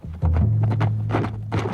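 Hooves of a horse carrying a Shawnee chief along the battle lines, a close, loud clip-clop rhythm of several quick hoofbeats over a low rumble, with no speech.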